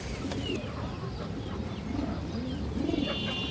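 Pigeons cooing at a Bangladeshi pigeon market stall, including a handsome male pigeon, with soft repeated coos over a steady busy background murmur.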